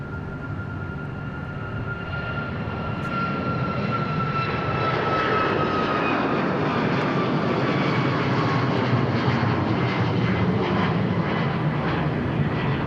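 A plane arriving at Dallas Love Field roars steadily from start to finish, with a broadband engine rumble that swells after a few seconds and whining tones that slowly glide downward as it passes nearby.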